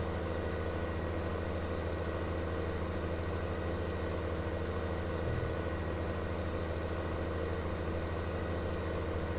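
A steady tractor engine of about 100 horsepower idles and runs in Farming Simulator 19, a continuous low rumble that holds at an even level throughout, with no talk over it.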